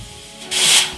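Steam hisses from the wand of an RS1 espresso machine at its 60% setting: a quiet mechanical rub, then a sudden broad hiss bursts in halfway through and holds strong to the end.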